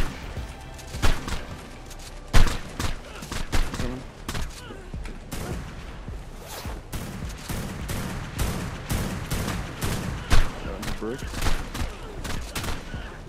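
Gunfire in the survival game ARK: Survival Evolved bursts out in rapid, repeated volleys of sharp shots over several seconds, some louder peaks standing out, while players talk now and then over the shooting.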